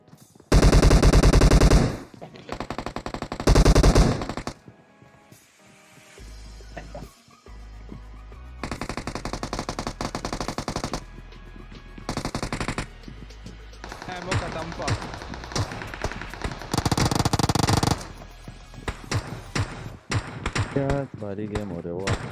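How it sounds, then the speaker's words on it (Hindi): Rapid bursts of gunfire in the PUBG battle royale on the Erangal map, fired without a scope, crackle loudly in several clustered volleys between quieter stretches, with voices talking over the game. "गन ओपन करके मार रहा हूँ।"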